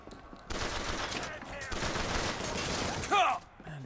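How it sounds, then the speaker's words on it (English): Rapid bursts of gunfire fill a Bioshock Infinite firefight, dense crackling volleys that run almost continuously, ending in a brief louder blast with a ringing tone. "These guys are shooting from everywhere."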